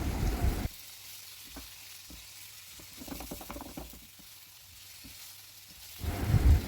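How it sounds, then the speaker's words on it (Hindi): Marinated chicken cooks in hot oil for pasta, a soft sizzle with a few scraping and clicking stir sounds, framed by louder bursts at the start and end, no talking. "सारा चिकन डाल के इसको अच्छी तरह से कुक करते हैं जब तक कि इसका कलर ना चेंज हो जाए।"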